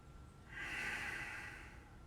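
One soft, breathy exhale during a beginner yoga leg lift, faint and close, rising gently and then fading.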